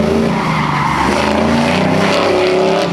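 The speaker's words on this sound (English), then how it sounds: "The Camaro looks fantastic coming around the corner." A Camaro cornering hard on an autocross course at a car show event, loud sustained tire squeal layered over a roaring engine, close and continuous throughout.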